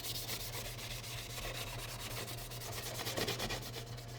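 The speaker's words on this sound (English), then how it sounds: "I'm just looking to really just scuff up the paint surface itself and clean it up a little bit" Hand sanding scuffs the painted surface of a metal sculpture in quick, regular back-and-forth rasping strokes, close and fairly loud, with no talk.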